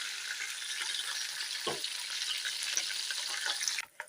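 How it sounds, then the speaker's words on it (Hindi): Chicken shallow-fries in oil for a Kashmiri chicken masala, a dense even sizzle throughout, broken by one soft knock in the middle and a brief dip near the end. "चिकन को अब हमने यहाँ पे शैलो फ्राई कर लेना है"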